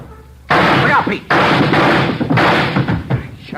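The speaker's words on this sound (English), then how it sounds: "Shot right through the door." A gunshot fired through a door as a sound effect in a live Dragnet radio drama: three loud, sharp blasts spaced about a second apart, each a booming burst with no talking over them.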